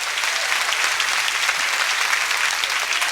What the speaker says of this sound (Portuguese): o teu povo que acredita que o Senhor está aqui vai te exaltar com uma salva de palmas bem fortes ao Senhor Jesus